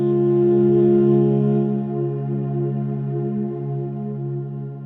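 Gentle Winds Kontakt library woodwind-style sample played with high attack: a dense sustained chord entering at once, with several low tones holding steady and a slight swell and fade over about five seconds, no voice.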